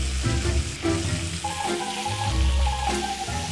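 Meat rolls with mushrooms sizzle seam-side down in a pan, a close steady frying crackle with occasional soft clinks and stirring sounds, no talk.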